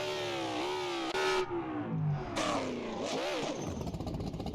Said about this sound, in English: I know you guys hear that turbo.